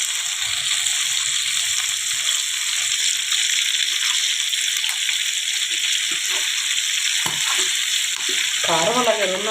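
Chicken joints fry in a pan on a lowered flame with a constant, even sizzle. A voice speaks briefly near the end.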